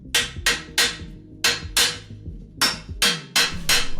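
A hammer strikes hard at a rusted, seized bolt on a 26-year-old jetski trailer, about eleven sharp metallic blows in uneven bursts, close and loud, each ringing briefly before the next.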